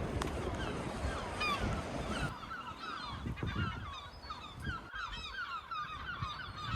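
Seagulls at a harbour breakwater with a lighthouse by the sea: repeated squawking and honking cries, several birds calling over steady wave and water noise, moderately close, no talk.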